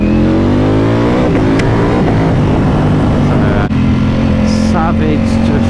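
A 2018 Ducati Panigale V4S superbike roars at close range, its engine note climbing through repeated revving sweeps, loud and continuous, with a brief dip in between.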